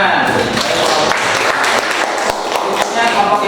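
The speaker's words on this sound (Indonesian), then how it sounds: "Tepuk tangan." Classroom students applauding together, a dense, steady burst of clapping that fills the whole stretch at close range.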